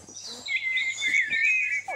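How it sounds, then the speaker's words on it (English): Cartoon birdsong from a magic box in a children's story, a steady run of high chirps and trills lasting the whole moment, fairly clear and without talk. "It sounds like birds singing to me."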